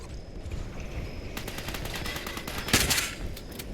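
Gunfire in the Fallout 76 video game aimed at a brainwave siphon, a steady stream of rapid shots with a louder burst near the end.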